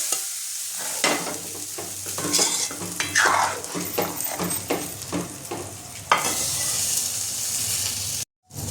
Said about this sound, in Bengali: তরকাটা আমি ডালটার মধ্যে দিয়ে দেবো।